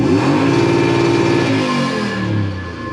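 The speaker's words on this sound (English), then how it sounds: "but when you step on the loud pedal" A Toyota Hilux fitted with a 3UZ-FE V8 swap, replacing the original turbo diesel, revs hard under acceleration, a loud, close, steady engine roar with rising and falling pitch and no talk.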